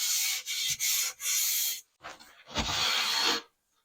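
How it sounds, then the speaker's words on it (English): Hand sanding a kitchen cabinet edge with 220 grit sandpaper, several short rubbing strokes in quick succession followed by a longer pass, close and clear with no talking. "you can use 220 grit sandpaper and just give it a couple of passes"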